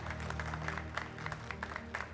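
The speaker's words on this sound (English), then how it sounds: "Please put your hands together for Dubai Vipers." An event crowd at a GEPL match applauds the Dubai Vipers cricket team, a dense, steady patter of clapping hands heard from a moderate distance, fairly quiet overall.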